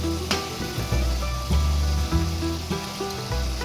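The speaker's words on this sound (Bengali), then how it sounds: "কত সুন্দর ভাজা হয়েছে না, মুচে মুচে ভাজা হয়েছে" Potato patties shallow-frying in oil, a continuous soft sizzle with low bubbling and occasional crackles, steady and close, with no voices.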